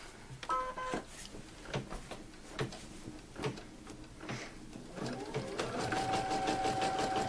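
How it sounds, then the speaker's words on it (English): A sewing machine stitches the last strip of a mandala placemat, a steady mechanical whir with rhythmic needle ticks that starts after a few clicks and builds into continuous running, fairly close and alone. "So I'm going to start the machine for the very last strip."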